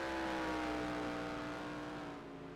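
A USA race truck engine drones at a steady, fairly constant pitch through the turns at a sprint qualifier, holding a sustained hum that fades slightly at the end.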